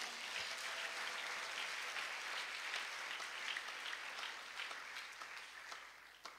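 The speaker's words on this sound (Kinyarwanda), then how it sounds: "abamwemeye tumukomere amashyi menshi cyane" An audience in a church gathering claps in sustained, fairly even applause for several seconds, at moderate distance, with no voices over it.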